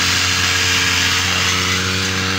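A grass cutter drones steadily in a field being cleared for gourd planting, a loud, continuous motor whine with no talk over it.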